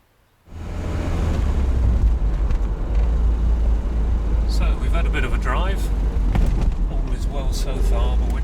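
A Triumph TR7 fitted with a full TriumphTune kit starts off and drives along a road in Cornwall, a loud, steady low engine rumble and road drone heard from inside the car, with a voice talking over it partway through.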